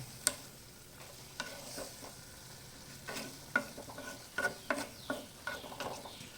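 Beetroot and a pinch of turmeric stirred in a pan, a series of distinct scraping and clinking spoon strokes over a soft low sizzle, close and fairly quiet, no talking.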